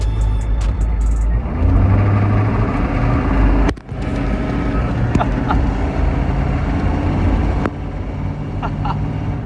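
Hummer H1 driving at 30 mph over bumps: a loud, continuous engine and road drone from inside the cabin, with a sharp jolt partway through and rattles after it.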